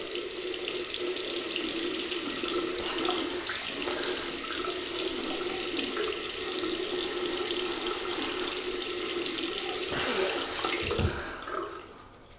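A tap runs steadily into a sink to wet a 1970s Boots shave stick, a constant close hiss of flowing water that cuts off near the end.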